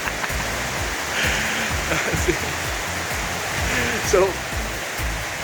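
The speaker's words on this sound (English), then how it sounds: "Unfortunately, it's a little raining over here in the academy." Light rain falls outdoors at an academy, a steady broadband hiss running throughout with someone talking over it.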